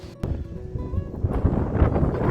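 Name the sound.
wind on hiking trail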